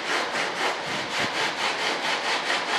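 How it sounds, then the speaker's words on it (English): Steady back-and-forth rasping of a hobby-store sanding block with coarse grit paper on wood, rhythmic strokes about four per second, close and alone. "This is one of them sanding blocks you get from the hobby store"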